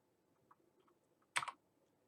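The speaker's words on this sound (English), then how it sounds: "I'm hitting the letter A on my keyboard, but I'm getting the letter D." A single short burst of key presses on a computer keyboard running Windows 98, a quick cluster of clicks alone in a quiet room after faint light taps.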